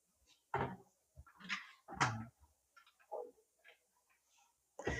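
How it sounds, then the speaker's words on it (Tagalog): A few soft wooden knocks and slides close by, like a drawer being pushed shut, with light clicks and quiet pauses between. "So, closed drawer."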